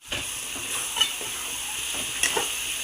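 Food frying in a pan in a home kitchen gives a steady close sizzle, with faint stirring scrapes and two brief louder clinks of the utensil against the pan.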